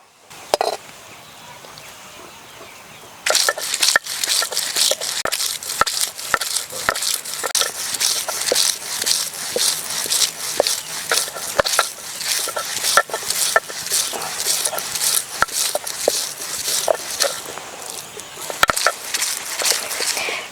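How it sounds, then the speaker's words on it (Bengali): Lightly fried chicken being ground by hand on a stone slab grinder for a chicken and potato dum curry, with rapid rhythmic scraping and crushing strokes, loud and close, continuing steadily after a brief quiet opening. "এবার শিলে ভাজা চিকেন বেটে নেব।"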